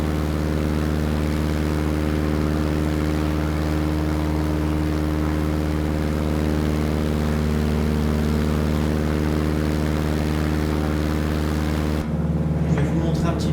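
Steady, loud drone of a propeller airplane in Microsoft Flight Simulator, a constant engine hum with stable tones that shifts abruptly near the end as the view changes.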